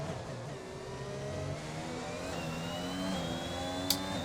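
A Honda-powered Formula One car in a racing video game accelerates hard down the start-finish straight of the Saudi Arabian Grand Prix, engine whine climbing steadily as it overtakes a McLaren Mercedes, with another car's engine droning alongside.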